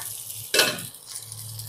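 Eggplant and other vegetables for shukto frying in a pan with a soft steady sizzle, then a brief louder burst of hissing as the lid comes off or the pieces are stirred.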